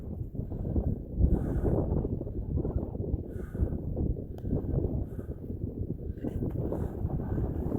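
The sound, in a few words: strong wind outdoors in the wilderness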